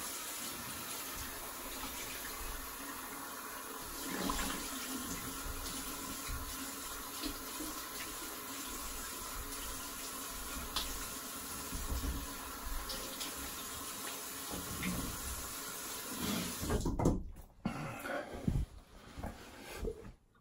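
Running tap water pours steadily while someone rinses after a shave, a constant close gush that breaks into splashes and stops near the end.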